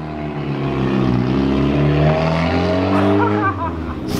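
A boosted Mazda Miata pulls away, its engine note loud and steady with a rising tone near the end, with some speech-like sounds mixed in.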